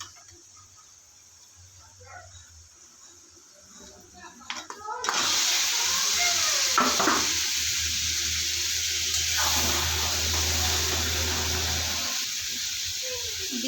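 Pieces of country chicken drop into a pan of fried spices and set off a sudden loud sizzle, which settles into a steady, bright hiss that carries on until near the end.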